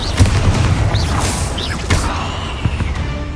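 A Confringo fire spell explosion in the PC game Hogwarts Legacy, heard as loud booming blasts with crackling impacts and whooshing magic effects over a dense combat soundtrack.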